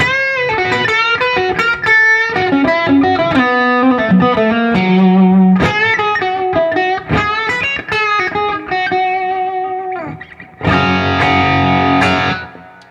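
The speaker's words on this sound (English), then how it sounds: "Lots of useful tones on this guitar." An amplified Fender Acoustasonic Jazzmaster guitar, plugged straight into its Fishman system without pedals, plays a melodic line with sustained, ringing notes and strummed chords, alone and fairly loud throughout.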